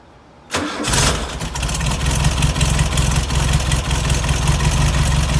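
An air-cooled Volkswagen Beetle engine, fan belt removed, cranks and catches after a quiet moment, then settles into a loud, steady, rattly idle close by.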